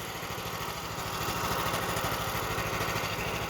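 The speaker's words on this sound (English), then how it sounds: "little mini tractor's putting in some work today" A little mini tractor's small engine chugs steadily while working, its rapid, even putter holding loud and constant throughout, with no voices.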